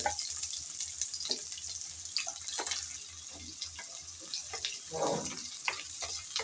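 Diced onion crackles in hot oil with panch phoron spices, a continuous close sizzle marked by occasional sharper pops and scraping.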